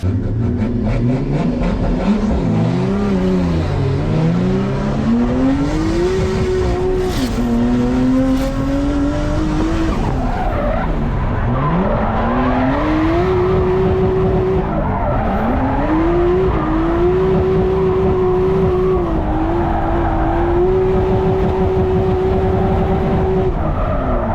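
R32 Skyline-type drift cars competing at an LZ World Tour event in Canada, engines revving and sweeping up and down with tire squeal and skidding, loud and continuous from start to finish.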